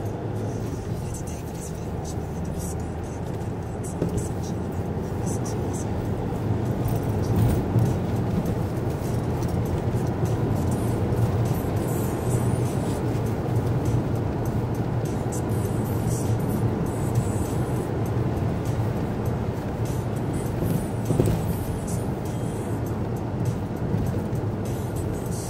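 A car accelerates on a road near Cowie, Stirling, Scotland, its engine a steady broadband rumble throughout while people talk over it inside the vehicle.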